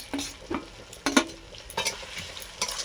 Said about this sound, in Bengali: ওর মধ্যে আমি দিয়ে দিচ্ছি কুচানো পেঁয়াজ